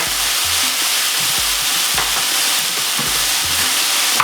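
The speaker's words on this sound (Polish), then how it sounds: "na patelnię wrzucam ogórka i paprykę" Cucumber and bell pepper hitting a frying pan with chicken give a loud, continuous sizzle and hiss, with rhythmic stirring scrapes repeating about every half second.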